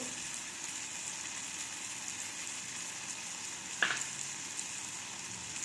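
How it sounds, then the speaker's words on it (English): Ginger and garlic frying with dry masalas in a pan, a steady soft sizzle running throughout, with one brief clink or stir near the end. "The ginger garlics are getting cooked well."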